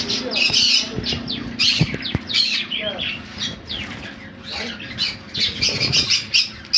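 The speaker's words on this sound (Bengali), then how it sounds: "ব্লু কোনুর 5000 টাকা জোড়া" Blue conure parrots squawking in a bird sale setting, repeated harsh shrill calls overlapping one another, loud and close, with chirps and a few sharp knocks among them.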